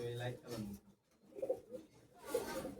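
Red-eyed high-flyer pigeons coo indoors in a loft, a few soft low calls around the middle and end of the stretch, with a person talking nearby at the start.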